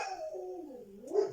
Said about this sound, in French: Vous devez entendre mon chien aboyer